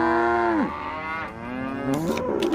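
Cattle mooing in a Nancy Drew: The Shattered Medallion video game, a long, loud, drawn-out low moo that drops in pitch, followed by a second rising moo with a brief sharp noise near the end.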